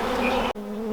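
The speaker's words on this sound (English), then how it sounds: "you can probably still see the bees buzzing around that hive behind me" A close, continuous hum of honey bees flying around a horizontal hive in freezing winter air, broken by a very brief dropout midway before the buzzing resumes.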